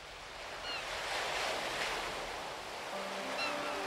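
Sea waves surge at high tide against chalk cliffs on a European coast, a broad continuous wash that swells and eases, with faint gull-like cries and a soft low tone near the end.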